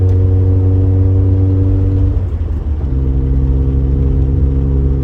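A Mazda RX-7 rotary engine with a Racing Beat exhaust cruising at part throttle in third or fourth gear, a loud steady droning hum with a brief dip in pitch midway as it settles back to a steady tone.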